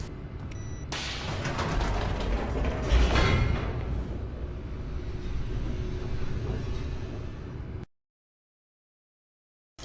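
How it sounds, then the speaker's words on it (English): Elevator descending in the video game The Stanley Parable: a steady low mechanical rumble with rattling and creaking, loud and continuous for about eight seconds before cutting abruptly to silence. "This looks like an elevator to hell."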